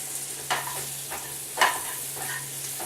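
Onions for liver and onions sizzling as they finish caramelizing in a frying pan, a soft steady hiss with a few louder scraping utensil strokes, close and without talk.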